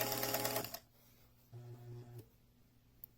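A sewing machine stitching a fabric instrument bell cover runs in a fast whirring burst, stops, then runs another short burst, close and fairly quiet with a small click at the end.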